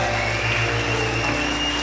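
A church congregation breaks into a short burst of applause during a worship service, soft clapping blended with a low steady hum and tonal background, without any talk.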